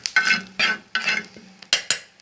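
Eggs frying in a pan, with bursts of crackling sizzle broken up by spatula scrapes and taps. The sounds come close and loud in short uneven clusters, and no one speaks.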